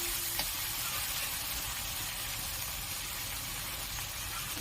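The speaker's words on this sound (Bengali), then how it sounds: "মশলাটা ভালোভাবে কষে নেব।" Masala paste for katla fish kalia sizzles steadily in a pan, a continuous close hiss of frying spice with a faint occasional scrape, no voices.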